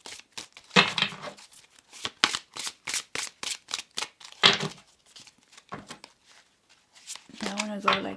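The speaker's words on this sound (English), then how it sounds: "let's just shuffle a bit more" Tarot cards being shuffled by hand in short, rapid riffling bursts, close and fairly quiet, with a person talking over and between the shuffles.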